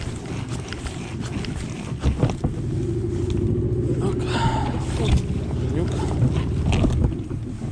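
A steady low hum of an electric trolling motor on a fishing boat in the Dnipro river reeds, running continuously close by while someone talks and wind buffets the microphone.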